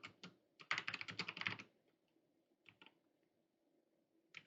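Fingers typing on a computer keyboard, heard as a quick cluster of close key clicks followed by a few sparse taps, quiet and alone in a still room.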